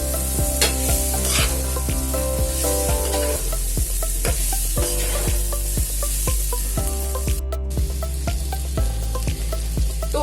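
Chicken chop stirred with chopped tomato and onion in a hot pan makes a steady sizzle with a few stirring scrapes, partly masked by louder plucked background music.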